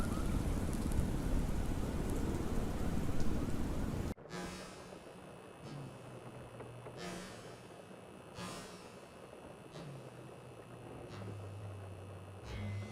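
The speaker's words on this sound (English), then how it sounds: "McCoy and Lucy step out into the rain and double-check their guns" Rain sound effect in a noir detective audio drama: steady, fairly loud rainfall for about four seconds, then a sudden cut to a much quieter rainy backdrop with faint tonal hums.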